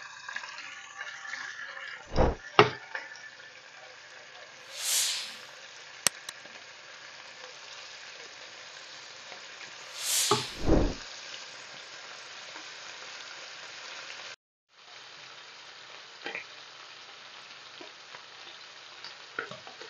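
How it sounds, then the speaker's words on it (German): Veal pieces for a creamy veal goulash sear in hot oil in a pan, giving a steady close sizzle broken by a few louder scrapes and clatters of the meat being moved. "Und darin brate ich jetzt das Fleisch an."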